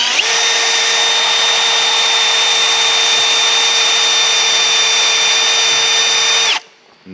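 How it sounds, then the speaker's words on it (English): Power drill with a left twist drill bit working into a stuck bolt, a loud, steady high-pitched whine held for about six seconds before abruptly stopping. "I'll see if I can film how easy it is to get these out when you use a left twist drill bit"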